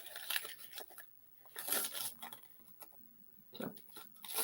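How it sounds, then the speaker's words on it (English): Paper is crumpled by hand to create texture for a craft project, producing soft, close crinkling bursts separated by short quiet pauses, with no talking. "I'm gonna take it and crumple it"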